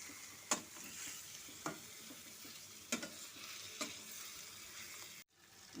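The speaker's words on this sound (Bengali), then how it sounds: "দিয়ে ভালো মতো করে মশলার সাথে চিকেনটাকে ভালো মতো কষে নেব" Chicken pieces being stir-fried with spices for a Bengali chicken bhuna, a steady close sizzle with a few sharp scraping stirs of the spatula, cut off abruptly near the end.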